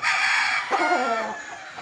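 A Boston Millionaire gamefowl rooster crows close and loud, a single strained, raspy call lasting under two seconds.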